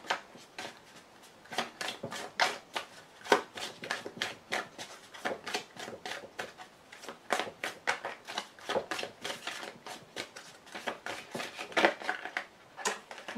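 Tarot cards are cut and drawn from a deck in a rapid, continuous run of soft papery flicks and taps, close and fairly quiet, with no talking.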